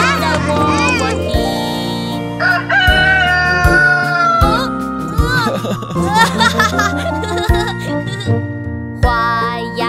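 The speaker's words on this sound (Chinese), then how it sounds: "有一只小公鸡，它在喔喔啼" Rooster crowing in a children's song, loud repeated cock-a-doodle-doo calls and clucks woven into bright music with singing and childlike giggles.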